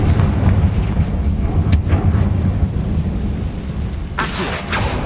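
A Confringo spell in the video game Hogwarts Legacy, heard as a loud, sustained rumbling blast with deep low-end roar and a few sharp crackles, followed by a brighter burst near the end.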